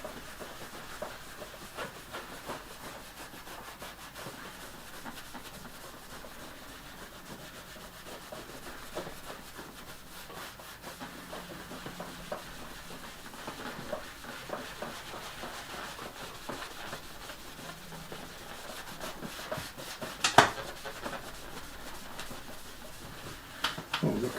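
Steady, continuous rubbing of a cloth or pad across a hardened wood finish while it is polished by hand, soft and close, with one sharper knock near the end and no talking.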